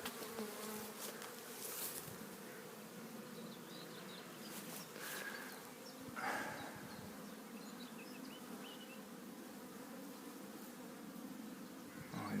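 Honeybees buzzing around open hives, a dense, continuous humming swarm with individual bees droning close by now and then, fairly quiet overall.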